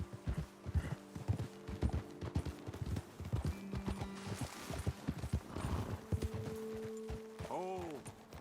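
Horse hooves clip-clop on a trail in the video game Red Dead Redemption 2, a steady uneven walking rhythm with tack creaks, a short whinny near the end, and voices talking over it.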